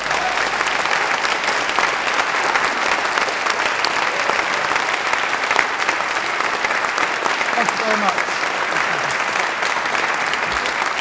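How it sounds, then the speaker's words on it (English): A large audience at an ideas event gives a loud, sustained round of applause that stays dense and even throughout, and a voice speaks briefly over it. "give a ridiculously loud round of applause"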